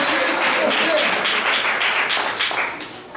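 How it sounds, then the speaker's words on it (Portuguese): A church congregation breaking into applause during a sermon, a loud burst of many hands clapping that rises quickly and then tails off over about three seconds. "Pode aplaudir ao Senhor."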